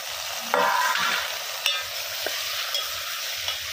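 Tomatoes dropped into a hot pan with curry leaves, a loud burst of frying followed by a steady sizzle and occasional scraping stirs.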